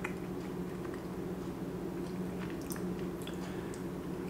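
Close crunching as Cheetos Smoky Ghost Pepper puffs are chewed, a continuous soft crackle and munch near the mouth with small sharp snaps scattered through, no talking.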